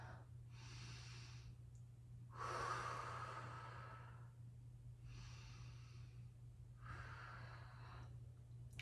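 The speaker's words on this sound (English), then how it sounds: "Let's take 2 deep breaths here." Deep, slow breaths taken in a yoga tabletop pose on hands and knees: four soft, airy inhales and exhales in a steady rhythm, close and quiet over a low constant hum.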